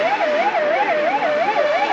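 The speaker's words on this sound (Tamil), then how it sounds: "யாராவது ஆம்புலன்ஸ் கூப்பிடுங்களேன்." An ambulance siren wails loud and close in a steady, rapid up-and-down warble, continuous throughout with no voices over it.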